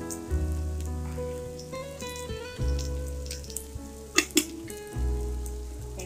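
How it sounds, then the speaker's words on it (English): Onions with ginger garlic paste fry in a pan for an Andhra-style curry base, giving a steady close sizzle with a low hum underneath and occasional sharp clinks of stirring. "And fry them well for another 2 minutes."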